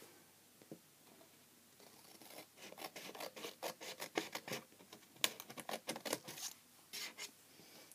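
Scissors cutting straight along paper or card while making a small craft piece: close, quiet snipping and rasping strokes in an uneven rhythm, growing busier midway, with no talking.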